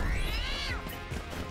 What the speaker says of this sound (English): That sound like cats for some reason.